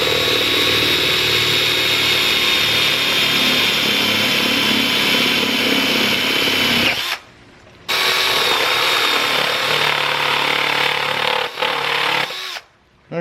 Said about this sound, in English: trying to keep that drill bit in the center of this hole